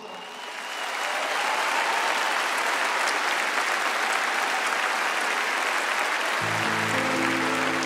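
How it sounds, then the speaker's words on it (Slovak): Concert audience applauding for a singer and pianist at an anniversary show, dense steady clapping that swells in within the first second and holds loud throughout, with music entering near the end. "v tejto chvíli vás poprosím o potlesk"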